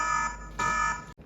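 A Hikvision AX Pro wireless alarm siren, set off by a PIR motion sensor, sounds as a steady harsh electronic tone. It pulses slightly for about a second, then cuts off abruptly.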